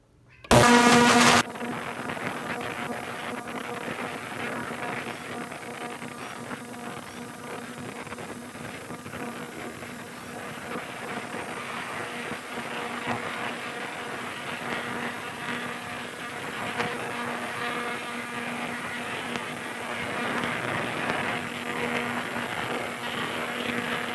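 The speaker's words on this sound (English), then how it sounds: "so finished cleaning it in the ultrasonic cleaner, and gotten it pretty good." An ultrasonic cleaner runs with a Buck 110 folding knife inside, a steady faint buzzing hum with a tonal drone that continues evenly for over twenty seconds after a brief louder burst at the start.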